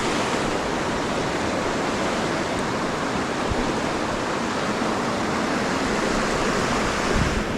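The River Twiss rushing past in a steady, loud, broadband wash of flowing water close by, unbroken and with no voices.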